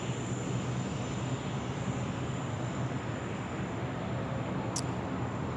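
A Malaysia Airlines airliner descends to land at Sydney Airport, a steady, distant jet roar spread over several seconds with no talking.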